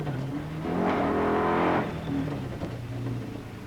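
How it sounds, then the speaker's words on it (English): A rally car, its engine sick after dropping a valve, swells into a loud, rough, strained drone for about a second before falling back to a ragged, uneven running note during a Portuguese rally stage. "Delacour's engine sounding very sick indeed, and in fact it had dropped a valve"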